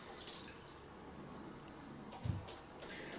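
Water knocked out of a wet shaving brush: a few quiet taps and drips, faint and close, with soft splashes clustered near the start and again toward the end.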